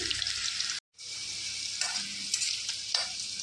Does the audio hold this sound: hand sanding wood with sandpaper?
no